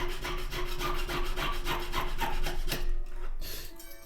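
A file rasps rhythmically across a soldered metal ring, about a dozen close, even strokes in steady succession before stopping, with no voices.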